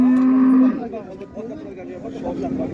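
A bull at a livestock market lets out a loud, close moo, followed by fainter lowing and the murmur of the market crowd.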